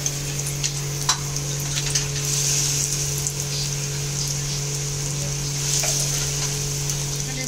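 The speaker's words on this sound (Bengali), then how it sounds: "দিয়ে ভালো করে চিকেনটাকে এক এক করে ভেজে নেব" Marinated chicken pieces frying in hot oil give a loud, continuous crackling sizzle that holds steady throughout, close up and without speech.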